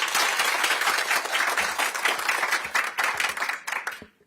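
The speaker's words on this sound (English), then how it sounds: "Can we give them another round of applause?" Applause from an audience at a press conference for a high school early college program, a close, moderately loud patter of clapping with uneven rhythm that thins out and stops after about four seconds.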